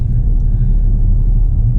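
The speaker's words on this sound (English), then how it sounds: "just drive round to a little spot" A Ford Fiesta Red Edition car drives along, heard from inside as a steady, loud low engine and road rumble with no talk.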